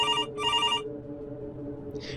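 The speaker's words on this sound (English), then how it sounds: "the kitchen phone began to ring" A kitchen telephone rings loudly in two sharp electronic bursts over a low background hum, followed by a short faint chime.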